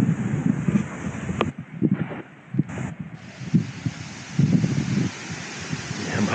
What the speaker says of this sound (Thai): ลมแรงมากครับฟังจากเสียง